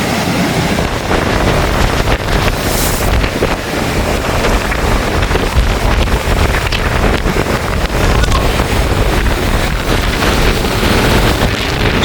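Loud, continuous roar of stormy sea at Point Pedro with heavy wind gusting against the microphone, waves surging without pause.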